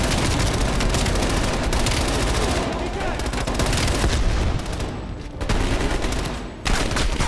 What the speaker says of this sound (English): you guys are just shooting this way